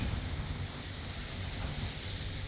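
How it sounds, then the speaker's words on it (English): Steady, broad wind rush blowing across the microphone at a Vancouver Island shoreline, with a low rumbling buffet underneath and no voices. "Quite windy in here."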